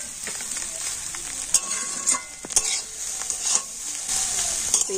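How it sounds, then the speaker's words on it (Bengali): Chow mein fries in a pan with potato and egg, a bright steady sizzle punctuated by several sharp spatula scrapes and clacks against the pan, close and clear. "এবার আমি এই আলু ডিমের সাথে চাউমিনটাও ভেজে নেব।"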